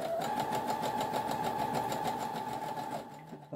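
A household sewing machine runs steadily, stitching zigzag, with a fast, even mechanical whirr and rhythmic needle chatter that slows and stops near the end.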